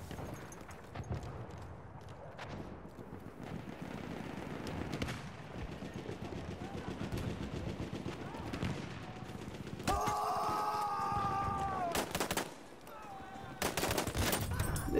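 Battlefield gunplay with bursts of automatic machine gun fire and scattered gunshots running throughout, dense and rapid, mixed with game effects and intermittent talk.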